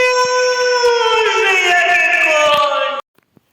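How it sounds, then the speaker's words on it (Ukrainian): An air raid siren wails loud and steady in Ukraine, a rising-and-falling tone that holds for about three seconds and then cuts off abruptly, leaving a few faint clicks. "Повітряна тривога у нас."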